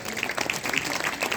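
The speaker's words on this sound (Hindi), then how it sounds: "तालियां बजा दो उनके लिए भी एक बार।" An audience at an Arya Samaj Vedic bhajan gathering at a gurukul gives a brief burst of clapping. Dense, steady applause from a crowd continues throughout.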